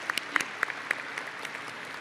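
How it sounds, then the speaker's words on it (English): Scattered audience applause at a university computer science and engineering undergraduate diploma ceremony, a few distinct claps over a faint, thin backdrop of clapping that fades within two seconds. "Mary Briamonte, Natalie Sekarak, let's clap as we go."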